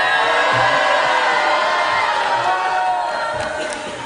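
A large live television talent-show audience booing and jeering at the judges, a steady loud roar of many voices sustained throughout and easing slightly at the end.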